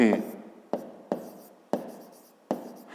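A pen writes a five-digit number by hand for a fifth-grade maths exercise: a few crisp, close strokes, each a sharp scratch that fades quickly, spaced unevenly over a few seconds in a quiet room.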